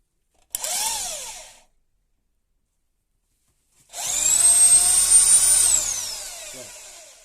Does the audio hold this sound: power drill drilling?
yes